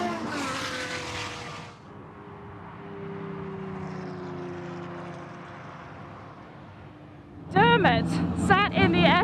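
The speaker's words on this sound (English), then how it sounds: "The Jaguars come under the chicane." Tom Walkinshaw Racing Jaguar XJR9 Group C prototypes pass through the chicane at Goodwood SpeedWeek, their engines droning steadily at a moderate distance. A commentator talks at the start and again near the end.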